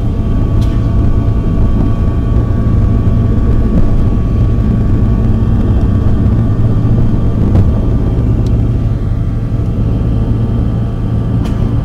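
Airplane cabin in flight, a steady loud low engine drone and air roar filling the whole stretch without pause, no voices.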